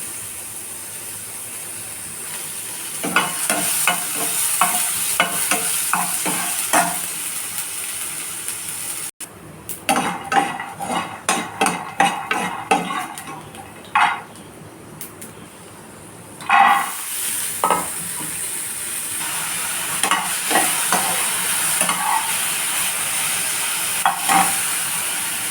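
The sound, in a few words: frying and stirring spices and peanuts for tamarind chutney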